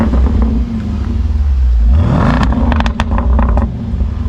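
A Land Rover Defender V8 fitted with a QuickSilver Sound Architect exhaust idles with a deep, loud rumble, then revs up with a rising growl and crackling pops, close and steady throughout.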